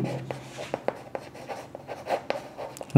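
Pen or chalk strokes on a board or paper during a Class 6 maths lesson, a quick run of short scratchy marks with brief pauses, close and clear, with no talking.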